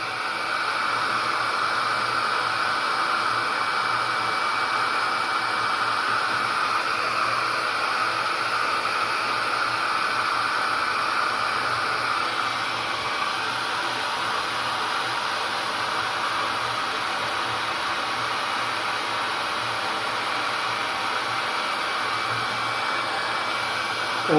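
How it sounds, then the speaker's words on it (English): A hair dryer aimed at a watercolor painting roars continuously up close, a constant airy blowing hum with no pauses and no voices. "Hair dryer, sorry."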